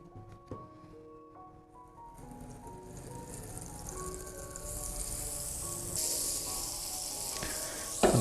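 Butter and oil heat in a hot frying pan, starting with faint clinks and then building into a soft, steady sizzle that grows louder and stays close, with no talking.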